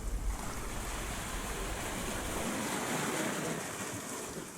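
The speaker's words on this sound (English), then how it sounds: "We are having westerly winds and the swell is just rolling into the harbor." Steady westerly wind and ocean swell roll into a harbor at Marbella, a broad continuous wash of surf and wind noise buffeting the microphone, with no talking.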